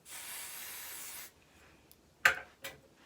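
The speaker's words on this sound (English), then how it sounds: "I'm gonna spray it a little bit more" Hair spray hisses out of an aerosol can in one steady burst of just over a second, close and fairly loud, followed by a couple of quieter handling noises.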